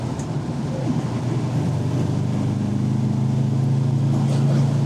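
Steady low exhaust burble from an MGB engine running on the road, heard close and loud from inside the car, holding a constant drone that rises slightly as the revs build.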